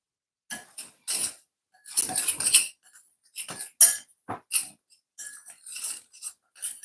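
Utensils clink and scrape against a bowl while ingredients for Jamaican steamed callaloo are stirred, a series of short, sharp metallic taps and scrapes in quick irregular bursts with silence between.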